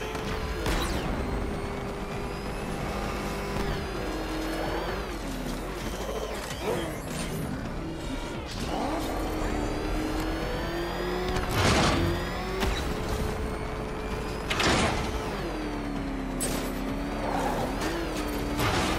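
Batmobile from Batman: Arkham Knight racing in a riddle race, its engine revving with rising and falling pitch under a steady motor drone, punctuated by sharp metallic impacts and creaks.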